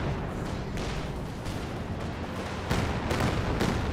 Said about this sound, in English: I think I hear a Katyusha barrage somewhere.